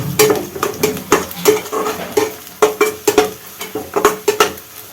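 Bay leaf, cinnamon and cardamom go into hot oil with browned onions in a pan, and a spoon scrapes and stirs in quick, regular strokes over a soft background sizzle, close and fairly loud.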